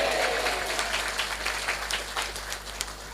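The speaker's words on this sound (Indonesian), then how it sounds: "Tepuk tangan malih." A crowd at a humorous Islamic sermon gathering in Banyumas claps together, a dense round of applause that gradually thins and fades toward the end.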